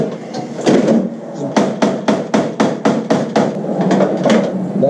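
A quarter panel is wrenched off a Nissan S13 body, a rapid run of hard, close knocks and bangs in an uneven rhythm over a rough scraping metal background.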